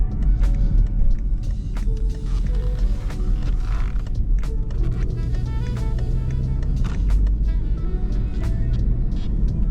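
Cabin of a 2019 BMW 520d Touring G31 xDrive with a 2.0 inline-four diesel, driving through a forest: steady low road rumble and engine drone with occasional interior creaks and small knocks, no talking.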